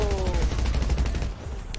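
Rapid automatic gunfire in a GTA-style online roleplay shooting game, a dense string of loud close shots, briefly overlapped by a tonal sound early on, with a sharp burst near the end.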